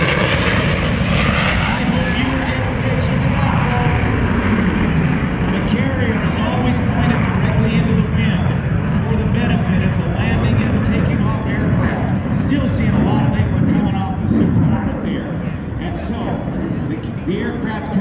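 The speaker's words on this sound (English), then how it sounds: "the aircraft enter very fast, like you're seeing them right now" F/A-18 Super Hornet jets roar past fast at the Miramar Air Show, a loud, steady, broadband engine rumble sustained throughout, with crowd and talk beneath.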